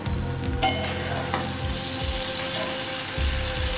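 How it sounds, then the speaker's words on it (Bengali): Eggplant slices fry steadily in a pan, a continuous close sizzle with a few louder crackles and soft stirring scrapes, no voices, for a dish of neem leaves with eggplant. "বেগুন ভাজতেও দিয়ে দিয়েছি।"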